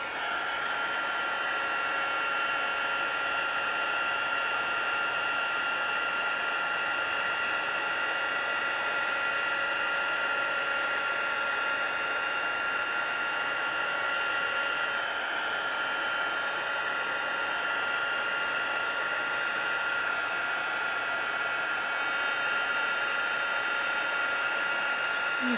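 A craft heat tool blows hot air steadily onto a greeting card, a continuous loud whooshing hum that runs unbroken and nearly unchanged throughout, with no talking over it.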